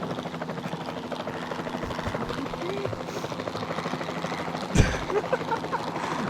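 Helicopter rotor in the video game Jurassic World Evolution 2, a steady low chopping drone running throughout, with a brief louder thump near the end and faint speech-like sounds mixed in.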